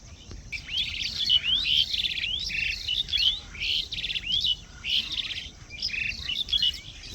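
Myna birds chirping at sunset: a dense, steady chorus of overlapping whistles and tweets from several birds nearby, carrying through the full stretch with no voices.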